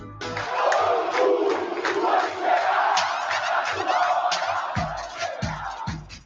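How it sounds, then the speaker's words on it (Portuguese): Excited Vasco football supporters in the São Januário stadium crowd, loud and continuous, with rhythmic claps or stomps near the end as the match against Bangu winds down. "preste muita atenção na empolgação da torcida do Vasco já no fim do jogo contra o Bangu"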